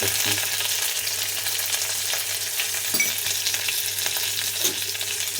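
Dried red chillies, curry leaves and mustard seeds frying in hot oil while being stirred: a dense, continuous loud sizzle with occasional faint spatula taps, close up and steady throughout, no voices.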